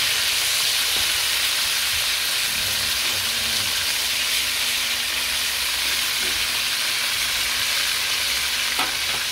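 Chicken frying in a pan, a continuous close sizzle and hiss with a few faint stirring scrapes, steady throughout with no talk.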